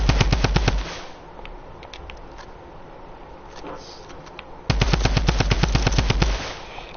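Rapid automatic gunfire from a video game build battle in playground mode, with two loud sustained bursts of evenly spaced shots separated by a quieter stretch of scattered single pops.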